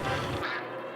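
A duck quacks once, loud and near, cut off abruptly within a second.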